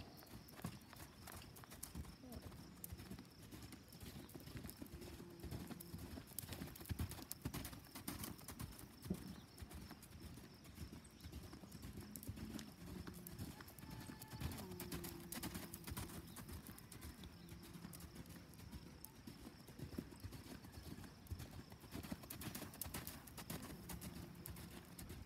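Horse hooves clip-clop in a steady, repeating rhythm throughout, moderately close but fairly quiet, with faint birdsong in the background and occasional talk between people.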